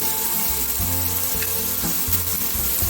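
Chopped onion frying in a pan for meat khichuri, a continuous near sizzle with occasional stirring knocks, heard alone without talk.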